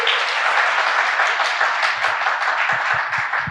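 An audience at a SSAFY recruitment information session applauds to welcome speakers onto the campus stage, a thick continuous wash of clapping that stays loud throughout.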